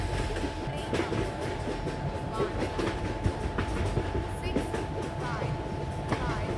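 A double-decker express train pulls out of a station platform near Pune, its wheels clicking rhythmically over rail joints under a steady rumble, with a faint tone and distant voices.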